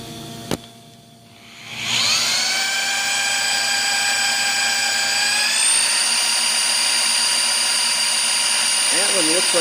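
A drill spins up after a short pause to prime oil through Comp Cams hydraulic lifters on a Pontiac V8, holding a loud, close, steady high whine with a faint voice underneath.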